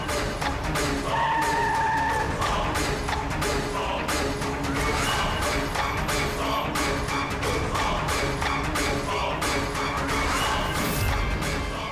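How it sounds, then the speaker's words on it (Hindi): A car brakes hard and skids, with loud sustained tire screeching and engine roar throughout, dense and close, under dramatic background music. "विनीत गाड़ी रोको, साइड में लगाओ।"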